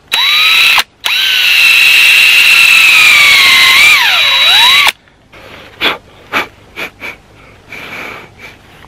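A power drill whines steadily for several seconds with a brief stop, its pitch sagging as it bites into a maple tree trunk for a tap hole, then a few faint knocks and scrapes follow.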